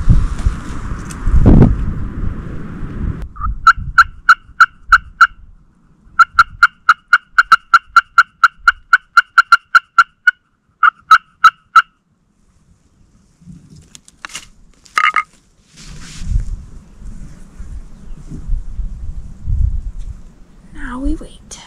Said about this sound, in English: Just heard one gobble.